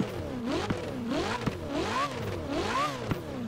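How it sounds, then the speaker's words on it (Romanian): Ferrari 448 engine in Forza Horizon 4 revving repeatedly while stationary, rising and falling in three or four sharp swells with a raspy, nervous exhaust note, loud and close with no talk. "Ia să ne oprim puțin noi aici să vă arăt și cum sună această mașină"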